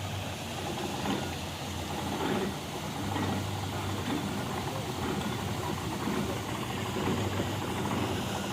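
A boat engine runs steadily on an old UK canal waterway, a continuous low rumble that holds at an even level throughout, with faint voices in the background.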